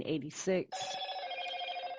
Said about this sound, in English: Sorry for my phone.